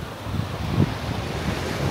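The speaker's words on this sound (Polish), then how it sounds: "na szczęście wieje mocny wiatr" A strong wind blows on a beach in Pattaya, giving a steady, full roar with buffeting gusts against the microphone and a faint wash of surf beneath.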